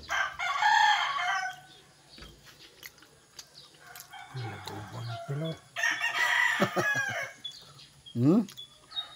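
Native Visayan rooster crowing loudly several times in long calls with pauses between, clucks and other farmyard fowl sounds mixed in.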